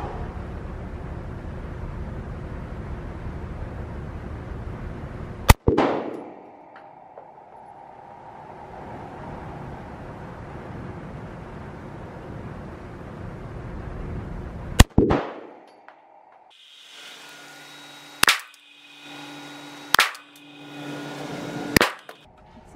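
Sharp, isolated pistol shots from a Smith & Wesson Equalizer at a shooting range, several loud cracks spaced seconds apart, each followed by a brief ringing echo.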